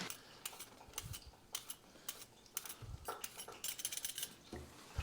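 A vegetable peeler scraping down carrots gives a quick series of sharp, scratchy strokes with small clinks. The strokes come in an uneven rhythm, close and moderately loud, and no one speaks.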